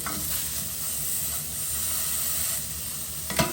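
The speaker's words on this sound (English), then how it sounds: "So I'm just going to give that a nice quick little searing." Tuna searing in a hot pan gives a continuous bright sizzle and hiss, close and steady, with a brief clatter near the end and no talking.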